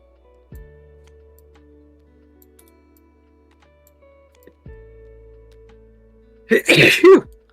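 One sharp, loud sneeze comes near the end, after a long quiet stretch with only faint ticking and a couple of soft knocks.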